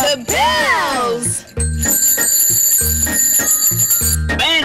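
Bright bells ring and chime in a steady pattern, sustained high tones over a bouncy accompaniment, after a brief sung or spoken voice at the start.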